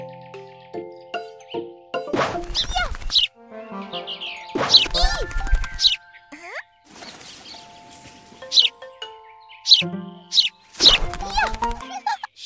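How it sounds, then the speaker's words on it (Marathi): Cartoon sparrow chirps in short bright bursts, several clusters spread across the scene, mixed with playful animated sound effects and children's voices talking between them. "ती बघ चिमणी"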